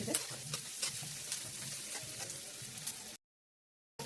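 Onions frying in a pan with oil for Bengali khichdi, a steady close sizzle with stirring scrapes for about three seconds, then a short dropout to silence before the sizzle returns.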